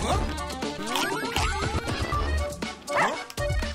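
Cartoonish dog barks and yips from the video game Russian Subway Dogs, a busy run of repeated barking layered over game music and crashing effects, loud and close throughout.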